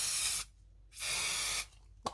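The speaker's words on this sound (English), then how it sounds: "a little bit of spray adhesive." Spray adhesive hisses from an aerosol can in two bursts, each about half a second long, separated by a short pause, close and fairly soft, with a small clatter at the end.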